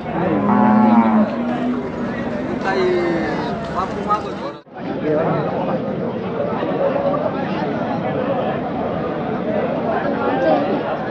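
Cattle moo loudly several times amid a busy crowd at the Chakan bullock market, with people talking and chattering throughout in the background.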